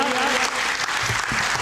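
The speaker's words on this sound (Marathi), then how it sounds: "टाळ्या वाजवून त्यांचं स्वागत करूया।" Audience at a public gathering clapping to welcome a guest, a dense, steady burst of applause from many hands close by.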